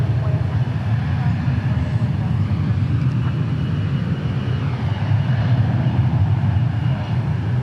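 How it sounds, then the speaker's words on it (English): A Japan Airlines Airbus A350-1000 airliner at DFW Airport, heard as a steady, loud, low engine roar that holds without a break from start to finish. "There's the Japan Airlines A350-1000."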